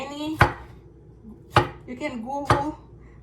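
Three sharp knife chops cut through a purple onion on a board, evenly spaced and close, with light clatter between strokes and no talking.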